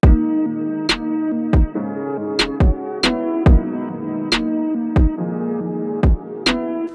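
A drill-style beat with sharp snare hits and deep kicks over sustained low synth tones, loud and steady throughout with no voices.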